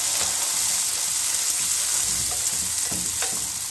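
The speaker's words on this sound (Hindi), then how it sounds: "जैसे ही ज़ीरा थोड़ा बहुत फ्राई हो तो इसमें आप छोले डाल दीजिए।" Cumin seeds and chickpeas sizzle steadily in a hot pan, with a constant fizzing crackle and a few light scraping stirs.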